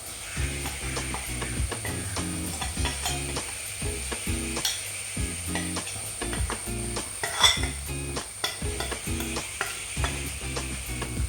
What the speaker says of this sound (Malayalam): ഇനി ഇതിൻ്റെ പച്ചമണം മാറുന്നത് വരെ നല്ലവണ്ണം ഒന്ന് ഇളക്കി കൊടുക്കാം.